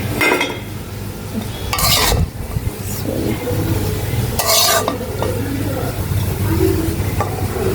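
Rice frying with egg in a pan, with steady sizzling under repeated scraping and stirring strokes of a utensil against the metal pan, close and fairly loud.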